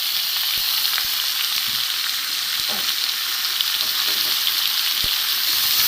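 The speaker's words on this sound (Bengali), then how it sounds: "এখানে আমার বেগুন আলু কাটা আছে এটাকে আমি ভাজবো" Cut eggplant and potato fry in a pan with a loud, unbroken sizzle, marked by a few sharp clicks and taps from the cooking spoon.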